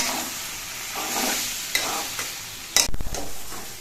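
Garam masala and a little sugar are stirred into banana-flower curry frying in a pan: rhythmic spatula scrapes over a gentle sizzle, with a sharp metallic clatter toward the end.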